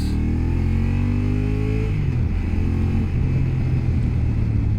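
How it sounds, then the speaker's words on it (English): Two-cylinder Honda NT 1100 motorcycle engine revving, a loud close rumble whose pitch climbs then settles into a steady throbbing drone, with no talk over it. "The engine sounds good, but of course it's a 2-cylinder"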